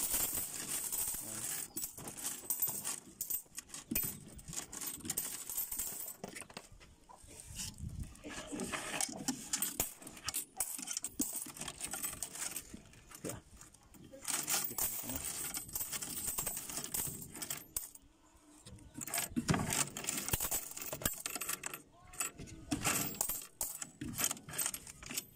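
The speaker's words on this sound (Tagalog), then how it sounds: "Hulog na yung barya sa sobrang dami" Many coins clatter and patter continuously as they drop inside a piso wifi coin machine, a dense metallic jingling rattle with brief lulls, close and fairly loud over roughly twenty-five seconds.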